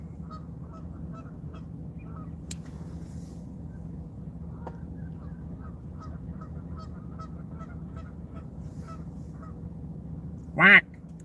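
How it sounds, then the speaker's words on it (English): Canada geese honk faintly in the distance outdoors, a few thin repeated calls barely rising over steady low background rumble, followed near the end by one brief louder sound close by. "Is it picking up the geese in the background?"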